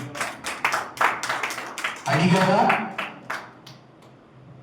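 Rhythmic hand clapping from a worship gathering, a run of sharp claps of moderate loudness that fade toward the end, with voices speaking and singing over and between them.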